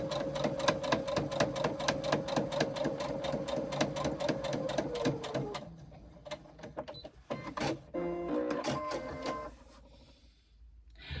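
A sewing machine stitches a row of pleats in a rapid steady run of needle strokes, then stops and gives a few short bursts and clicks before going quiet.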